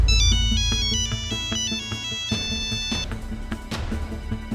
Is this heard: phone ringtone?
yes